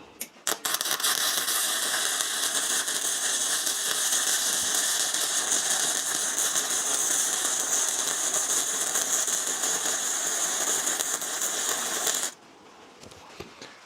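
Sefaspe MIG205DS MIG welder running on a 110V household outlet, welding 1/4 inch angle iron: a steady, loud, close crackling buzz that holds for about twelve seconds and then cuts off abruptly, with no talking.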